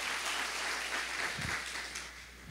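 A church congregation applauds, a soft, steady wash of many hands clapping heard from some distance, with a few low thumps and no talk.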